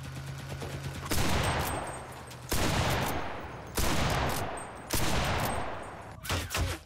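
Gunfire in the battle royale game Cuisine Royale, fired toward the player: four loud broadband bursts of shooting, each lasting about a second, with brief quieter gaps and a final shorter volley.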